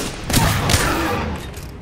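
A couple of quick gunshot bursts in Apex Legends ring out close and loud, then trail into a fading, rumbling game ambience.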